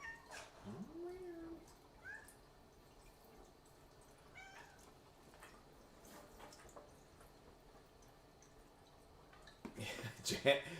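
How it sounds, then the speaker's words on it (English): A domestic cat meows several times in a quiet indoor room, with rising and falling cries near the start and middle, then a louder burst of noise at the end. A person speaks faintly in the background. "Oh, here comes the cat."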